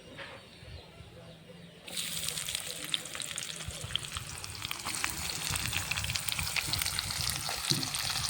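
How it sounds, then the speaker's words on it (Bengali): Chopped onion is tipped into hot oil already seasoned with whole garam masala for mutton dopiaza, setting off a sudden loud, crackling sizzle that holds steady and close, with occasional pops and clinks and no speech. "এবার আমি দিয়ে দেবো পেঁয়াজ কুচি।"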